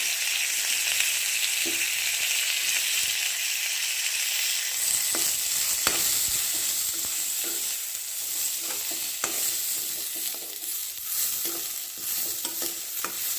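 Steady sizzling of dried red chili and onion frying in hot oil, a continuous crackle with occasional sharper pops and stirring scrapes throughout.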